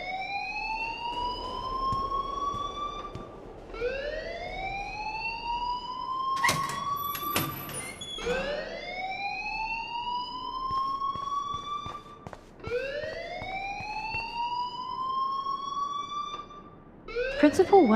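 An alarm blares in the video game Life is Strange, a repeating rising siren-like whoop cycling every few seconds, loud and close, interrupted briefly by a sharp clatter partway through.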